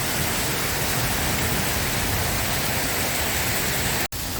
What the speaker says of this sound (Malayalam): ഇടയ്ക്ക് ഭയങ്കര മഴയാണ്